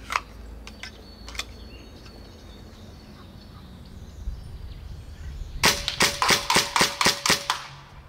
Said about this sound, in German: Das waren die zweiten 7 Schuss.